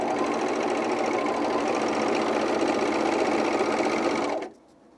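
Close, loud serger sewing machine stitching underwear fabric, running as a fast steady mechanical chatter for about four and a half seconds before stopping abruptly.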